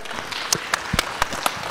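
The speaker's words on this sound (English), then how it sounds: "Let's give him a round of applause." Applause from a conference audience at a mobile money and financial inclusion event: a few sharp, scattered claps in an uneven rhythm, close and moderately loud, with no speech over them.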